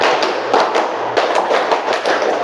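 Rhythmic hand clapping in a classroom clapping game, a steady pattern of sharp, fairly loud claps from a group, with no talking over it.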